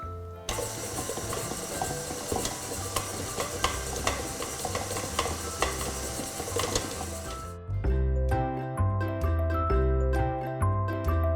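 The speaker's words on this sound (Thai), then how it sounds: "เสร็จแล้วเราก็จะตีค่ะด้วยความเร็วประมาณปานกลางนะคะ" An electric mixer at medium speed beats butter and sugar for caramel lava brownies, a steady whirring drone with the bowl rattling, loud and continuous, then shifting to a lower, heavier hum partway through, with no talking.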